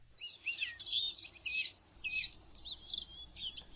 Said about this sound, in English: That's the bird right there. A very small songbird with a long tail, a bluish-gray back